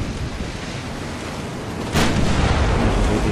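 Warship naval gunfire in the Ultimate Admiral Dreadnoughts video game, a continuous rumbling wash of distant cannon and sea noise, then one sudden heavier boom that stays loud to the end.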